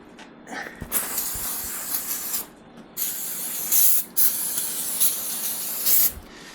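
Aerosol cleaner sprays onto a scooter brake caliper in loud, close hissing bursts, several short blasts separated by brief pauses.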